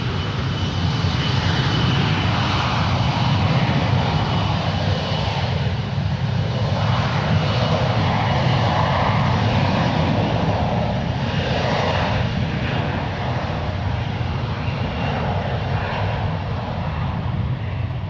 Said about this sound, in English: This is United Express Flight 5298, operated by SkyWest Airlines, now departing